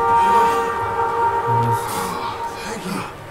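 Train in Red Dead Redemption 2 rumbling along with steady tonal hum and clatter, loud and close, with a voice briefly talking over it.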